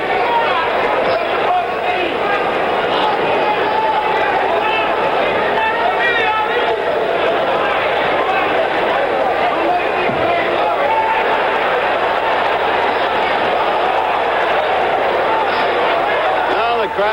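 Arena crowd at a 1977 heavyweight championship boxing bout in Maryland, a dense continuous roar of voices and restless murmuring, loud and sustained throughout, with a commentator talking over it.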